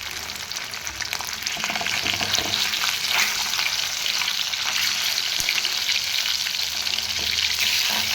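Fish frying in hot mustard oil in a wok, a steady dense sizzle with crackling spatters running the whole time at close range, no voices over it.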